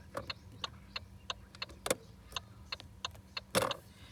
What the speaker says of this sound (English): I always do this, indicators